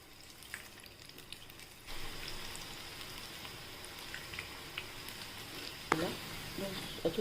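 Fenugreek fritters (methi bhaji) fry in hot oil with a steady, soft sizzle and faint crackle, joined by a few louder pops and scrapes near the end.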